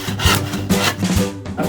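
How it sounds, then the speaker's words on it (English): A handsaw cuts through a wooden board during a kids' shelf build, giving three or four quick rasping back-and-forth strokes, close and fairly loud, with no talk. "Let's chop that off with a handsaw."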